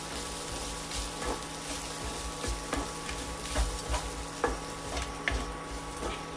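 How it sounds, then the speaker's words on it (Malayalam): Grated coconut and chili powder roast in a pan, giving a faint steady sizzle broken by soft scraping stirs of a spatula at irregular intervals. "ഈ തേങ്ങ ഒത്തിരി മൂത്ത് പോകരുത്,"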